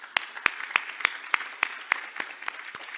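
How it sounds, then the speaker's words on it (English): A conference audience claps for the day's speakers, heard as sparse, evenly spaced sharp claps, roughly ten in a steady rhythm, fairly close and isolated rather than a full ovation. "please join me in giving all our speakers today another round of applause"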